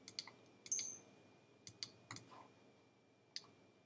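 A computer mouse gives several sharp, sparse clicks at an uneven pace, close and quiet, with no talking.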